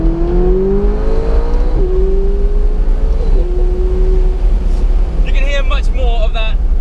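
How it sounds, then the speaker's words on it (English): A McLaren 570S Spider driven with the roof off, its engine and exhaust droning loudly and steadily through several gear changes with rising and falling pitch, wind rushing throughout, and a brief voice near the end. "Much more of that excellent exhaust."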